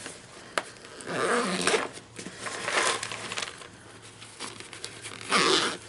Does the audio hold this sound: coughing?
no